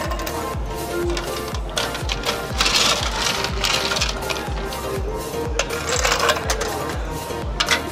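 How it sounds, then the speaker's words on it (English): Ice cubes tumble into a bowl while a cocktail-style mocktail is made at a brewery bar, giving a dense run of hard, clinking knocks and rattles, close and fairly loud with no talk. "Okay, some ice cubes in the bowl."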